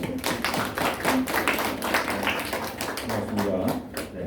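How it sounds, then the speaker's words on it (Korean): Korean church congregation at a Sunday service clapping to welcome back a deacon, a fairly quick, uneven patter of hands with some voices underneath, lasting a few seconds. "우리 박수로 환영해 주시기 바랍니다."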